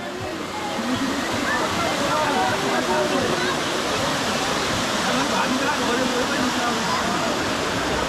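Bamni Falls in Purulia pours as a dense, steady roar of rushing water, loud and continuous throughout with no break.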